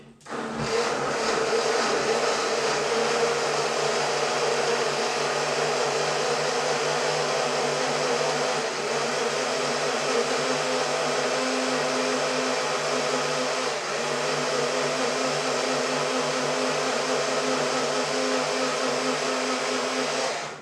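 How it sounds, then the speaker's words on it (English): A kitchen blender runs steadily and loudly for about twenty seconds, blending ingredients for a Jamaican curry mango dish, with a constant motor whine and no speech. "Put them in my blender. Come on, blender."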